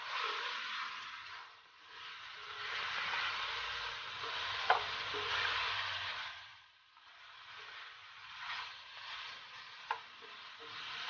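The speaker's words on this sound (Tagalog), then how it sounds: "Medyo napiprito-prito na." Chicken curry ingredients fry and sizzle in a pan, a steady broadband hiss that swells and dips with occasional sharper pops and stirring clinks, close and continuous with no talking.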